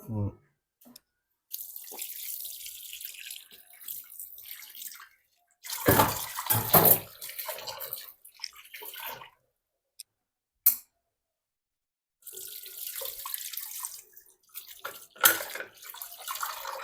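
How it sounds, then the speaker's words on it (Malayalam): Water poured into a pan to rinse it out after a failed village cooking attempt, bursts of splashing and running water starting and stopping, close by, with people talking between pours. "വെള്ളം ഒഴിക്ക കളയട്ടെ ഇത്."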